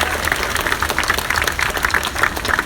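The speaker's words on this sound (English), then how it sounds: "Come on, clap it up for yourself" Crowd at a street protest in Queens, New York, claps steadily and loudly for nearly three seconds, a dense wash of many hands with slight swells and no talking over it.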